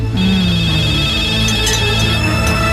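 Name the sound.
telephone ringing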